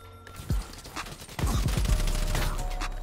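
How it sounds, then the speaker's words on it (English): Gunfire in Call of Duty Black Ops 3 as a shotgun is used. A single sharp blast comes first, then a louder stretch of rapid thudding shots and rumbling game noise that keeps going to the end. "Shotgun, okay."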